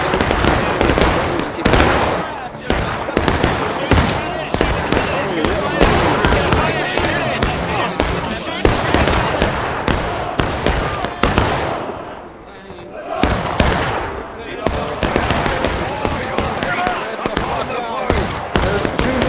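Musket volleys in a Civil War battle video game, the Manassas campaign, with repeated sharp shots crackling steadily throughout, close and loud, mixed with battlefield noise and a brief lull near the middle.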